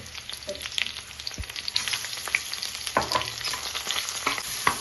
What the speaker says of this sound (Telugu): అల్లం వెల్లుల్లి పేస్ట్ పచ్చివాసన పోయేంత వరకు ఉడికించి